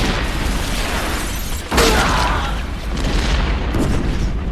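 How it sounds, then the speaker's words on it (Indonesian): Mortar shells explode in a war film battle scene, a dense roar of booms and blasts with one sharp, louder burst partway through, all continuous and close. "Begitu banyak mortar yang meledak."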